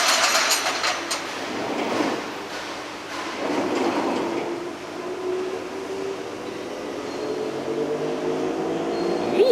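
Tractor PTO engaging to drive a straw baler, a rumbling mechanical drone that swells and settles, then a rising steady whine as the machinery gets up to speed, loud and near.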